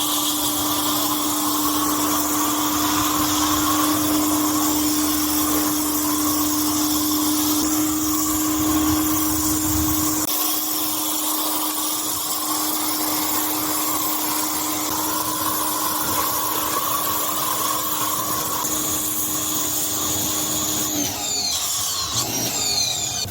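A pressure washer sprays water over a Kawasaki KFX400 quad, a loud continuous hiss with a steady motor drone that drops out partway through and then resumes.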